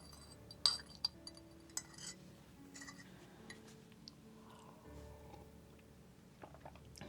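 A spoon clinks against a glass while stirring a drink, a few sharp chimes early on followed by quieter scattered taps against soft background noise.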